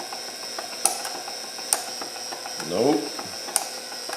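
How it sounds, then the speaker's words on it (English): A 1970-73 Camaro windshield washer pump on a bench gives a few sharp, evenly spaced ticks with a short mechanical whir between them, close and fairly quiet, with one brief spoken word. "Let's try a washer pump."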